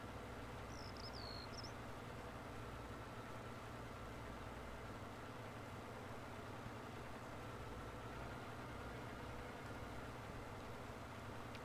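A tractor engine pulls a load in the Farming Simulator 19 video game, a faint, steady, unbroken drone with one brief high chirp early on.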